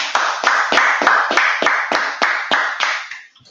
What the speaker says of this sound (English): good clapping with your hands.